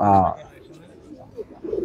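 A brief burst of voice opens, then low intermittent pigeon coos follow from high-quality tournament racing pigeons kept in a loft, faint and close.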